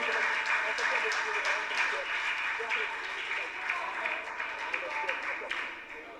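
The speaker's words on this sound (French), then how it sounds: "Sous vos applaudissements, s'il vous plaît." Audience applause for a student contestant at a school quiz competition, steady clapping from a room of people that holds throughout, with a voice speaking faintly over it.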